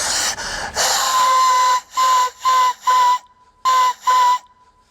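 A person imitates a train whistle with the voice: after a breathy start, a steady whistled tone comes in five short, evenly spaced blasts, close and fairly loud, with no other talk.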